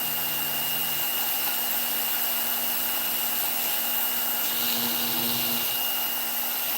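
A Dremel rotary tool fitted with a Kutzall burr carves wood for a gnome house, a steady high whine that continues throughout, loud and close, shifting slightly in pitch as the burr bites and smooths the surface, with no voices.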